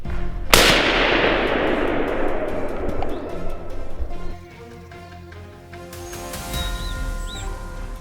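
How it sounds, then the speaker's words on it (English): A single sharp gunshot cracks through a forest during a wild boar hunt, loud and close, its echo decaying over several seconds before birds coo and call in the quiet afterward. "A sharp gunshot rang through the forest"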